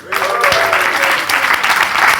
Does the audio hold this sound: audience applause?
yes